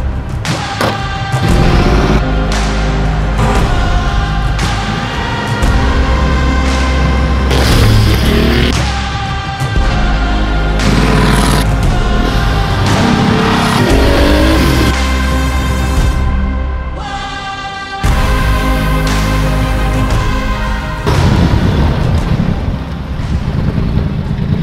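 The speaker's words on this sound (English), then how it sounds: "Unser 959 Paris Dakar wird heute den ersten Kilometer absolvieren." A restored Porsche 959 Paris Dakar rally car on its first kilometer after restoration, a loud, sustained engine roar with gear changes and heavy wind buffeting, no voices.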